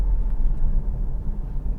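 An Alfa Romeo Stelvio with a 2.5-liter turbo engine accelerating on the Yas Marina F1 circuit, heard as a steady, heavy low rumble from inside the cabin, loud and continuous for about two seconds.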